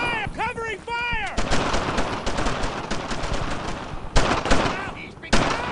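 Gunfire in the World War II shooter Brothers in Arms: Earned in Blood, dense rapid bursts of machine-gun and rifle shots running continuously with sharp louder volleys near the end, while a voice shouts briefly at the start.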